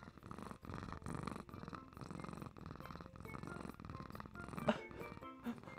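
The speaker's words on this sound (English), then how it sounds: "Can you hear him purring? He's purring so loud." Close, soft purring of a cat, a low rhythmic rumble pulsing with each breath, quiet and continuous, with a small vocal squeak near the end.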